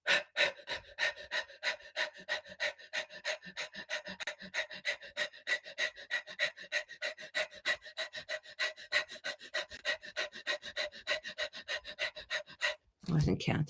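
Rapid, rhythmic bellows breathing: quick forceful breaths repeated steadily and closely miked, with a longer inhale near the end.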